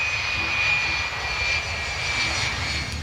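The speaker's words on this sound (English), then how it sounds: "The plane touches down in Dubai International Airport and pulls off the runway onto the apron." Airliner taxiing off the runway onto the apron after landing at Dubai International Airport, a loud steady engine roar with a thin high whine held throughout, heard continuously with no talk.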